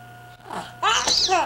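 One sharp sneeze bursts out after a brief indrawn breath, close and loud, with a faint background hum.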